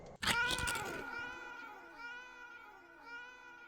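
A cat meows in the video game Returns Outlet Simulator: a sharp thump, then a loud drawn-out meow followed by two softer, wavering meows, close and clear with no talk.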